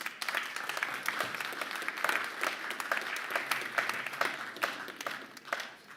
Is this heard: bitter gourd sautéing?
no